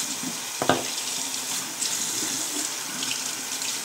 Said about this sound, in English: And then what you do is you open the water.